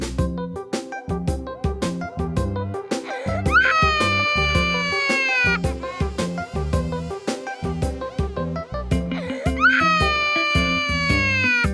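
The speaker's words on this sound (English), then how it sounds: "The sound of baby crying." A baby cries in rhythmic wailing bursts with rising, strained cries, set over a steady, repetitive musical backing that plays throughout.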